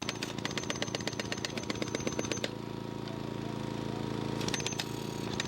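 A jackhammer breaking pavement pounds in rapid, steady bursts up close, stopping briefly and starting again, over the constant drone of an engine.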